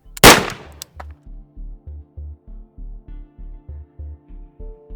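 Unsuppressed 11.5-inch barrel rifle firing 77 grain OTM ammunition: one loud, sharp gunshot up close, followed by a steady train of rhythmic low mechanical thumps.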